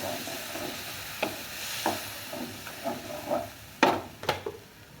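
Ghugni masala stirred in a pan, a soft continuous sizzle with a few sharp scraping clinks of the spoon against the pan, alone without voices.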